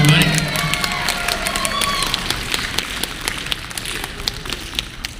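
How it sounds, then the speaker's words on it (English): An audience at an anime convention panel applauds and cheers, with a burst of whoops and voices at the start giving way to steady clapping that gradually thins out. "Give them a round of applause, everybody."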